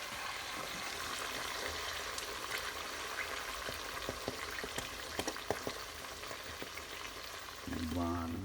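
Tomato sauce for tortiglioni sizzles and bubbles in a pan, a steady fry with scattered pops and spoon stirs, ending in a louder burst of sizzle as something is added.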